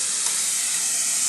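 Hot pepper added to onion frying in a pan gives a steady, bright sizzle, loud and close, with a constant hissing crackle and no talking.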